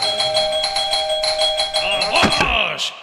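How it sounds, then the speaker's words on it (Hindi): A doorbell rings repeatedly in a home setting on a comedy stage show, a bright electronic chime pulsing in quick, even bursts, then breaking off into a final higher ding. "मेरे दरवाजे की घंटी किसने बजाई?"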